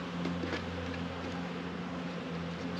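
Honeybees from a queenless hive buzz steadily around the entrance in a low, droning hum that stays even and moderately close throughout, with no talking.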